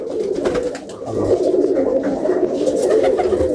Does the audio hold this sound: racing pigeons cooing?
yes